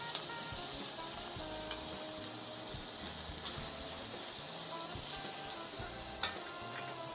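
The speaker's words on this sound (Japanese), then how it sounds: "今回ちょっとソテーしようと思います。" Scallops sautéing in a pan over high heat, a steady, close sizzle that runs throughout with faint scraping and stirring underneath, alone.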